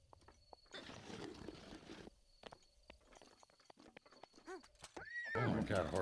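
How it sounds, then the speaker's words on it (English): A horse in a Zelda video game whinnies loudly and clip-clops its hooves amid game sound effects, with a sharp neigh rising near the end over louder background noise. "Oh my god, horse, how'd you get down here?"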